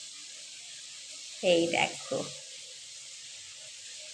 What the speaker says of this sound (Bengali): আর এইদিকে মাছ ভাজা বসিয়ে দিয়েছি, মাছটাও বেশ কড়া কড়া করে ভেজে তুলে নেব